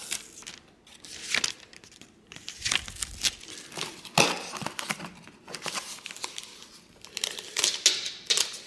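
Packing tape peeled and pulled from a box holding a replacement Samsung phone, giving close, loud crinkling and tearing bursts in an irregular run, with no talking.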